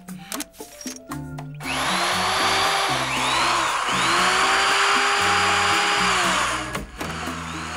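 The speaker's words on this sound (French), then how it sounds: "Perceuse." Cartoon power drill whirring loudly and steadily for several seconds, with rising and falling pitch sweeps over a backing music score.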